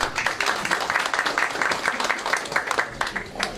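An audience at a business forum with Senate candidates in Rio Grande do Norte, Brazil, claps steadily, a dense, continuous patter of applause filling the whole moment at fairly close range.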